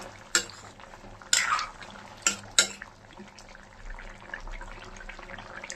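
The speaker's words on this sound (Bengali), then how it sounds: "এখন ভালো করে নাড়িয়ে নিচ্ছি" A spoon scrapes and clinks against a pot as bottle gourd curry with lentil fritters is stirred, four sharp metallic knocks standing out over a low, quiet bubbling simmer, close by and without talk.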